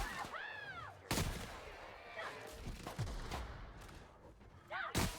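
Shotgun blasts in The Outer Worlds video game, a few loud booming shots spaced irregularly, mixed with creature screeches and other combat sounds.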